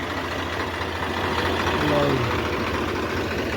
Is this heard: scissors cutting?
no